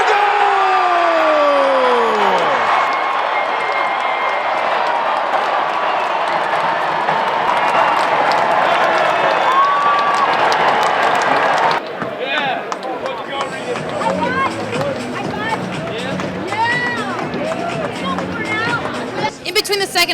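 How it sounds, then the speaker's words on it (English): A mostly Cornell crowd at Madison Square Garden roars after a Big Red goal, a loud sustained wall of cheering with whistles and shouts that surges again partway through. "This mostly Cornell crowd trying to cheer on the Big Red."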